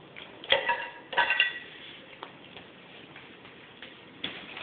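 A metal utensil scoops food from a dish, giving a few sharp clinks and scrapes in quick pairs, then a softer tap and a final clink, close and fairly quiet against a hushed room.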